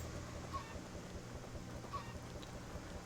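Chickens clucking in the video game Minecraft, a few faint, short clucks over steady background sound, with no talk.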